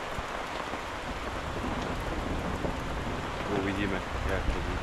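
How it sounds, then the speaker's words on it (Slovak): A rainstorm with strong wind during a night of catfish fishing: steady, dense rain patter and gusting wind roar fill the scene continuously, fairly loud and close, with no talk. "Už tu máme tú búrku, čo sme spomínali. Fúka silný vietor, blízka sa, prší."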